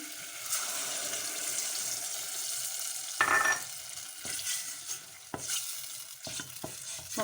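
Food with tomato paste, a little oil and tomato juice sizzles and fries in a pan, with stirring and occasional clinks and knocks of a utensil against the pan.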